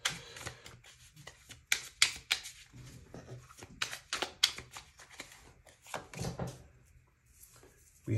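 Tarot cards being shuffled by hand: a run of crisp riffling and flicking bursts, some sharp and close, with short pauses between handfuls.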